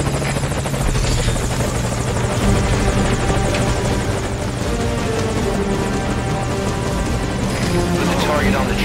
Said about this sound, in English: arriving shortly at LZ. On station at LZ.